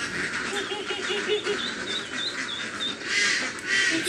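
Backyard ducks (itik) quack and call in a small flock close by, overlapping repeated quacks with a soft rustling background.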